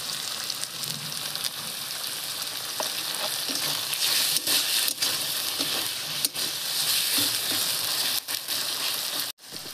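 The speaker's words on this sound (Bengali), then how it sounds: "এর ভিতরে আমি দিয়ে দিচ্ছি টমেটো।" Tomato added to ginger, garlic and onion frying in a pan sizzles steadily and loudly, with occasional stirring clatters and no talk.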